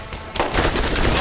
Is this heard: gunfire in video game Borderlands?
yes